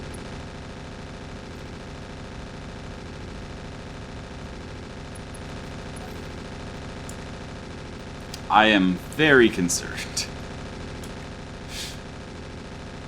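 Mech weapons fire in a BattleTech battle, a short cluster of loud gunfire bursts around the middle, with quiet talk running underneath the rest.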